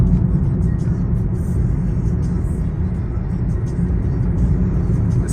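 A 2018 Mazda Demio 1300cc petrol car cruising on a highway between Mombasa and Nairobi, a steady low engine and road rumble with tyre noise, continuous and even throughout.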